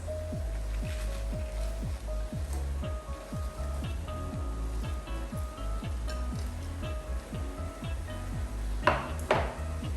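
Mustard leaves go into a pan of mee goreng mamak noodles, with rhythmic metal spatula scrapes and clanks against the pan over a steady low hum, ending with a few louder knocks.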